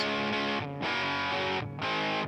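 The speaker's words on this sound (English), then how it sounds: "Now we'll give you some chords, some distorted chords." Heavily distorted chords on a PRS Private Stock Singlecut electric guitar ring out loud and sustained, changing twice with brief gaps between strums; no voices.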